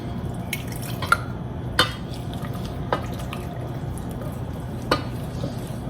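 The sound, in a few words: stirring roux and liquid in a pot for mushroom soup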